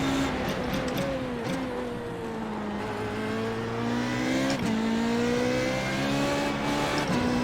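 Formula Renault 3.5 race car lapping Hockenheim in iRacing, engine droning at high revs and climbing steadily through the gears, with a brief dip and shift before pulling hard again, loud and continuous.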